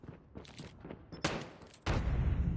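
Loud bursts of gunfire from the Call of Duty Mobile game, a scattered volley and then a heavier sustained barrage that fills the end, with no talking.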